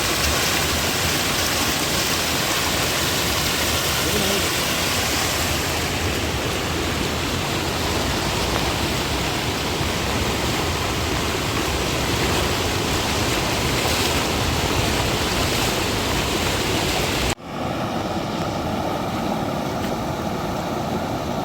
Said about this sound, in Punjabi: ਪਾਣੀ ਦਾ ਤੁਸੀਂ ਵਹਾ ਦੇ ਸਕਦੇ ਹੋ ਕਿੰਨਾ ਤੇਜ਼ ਆ ਪਾਣੀ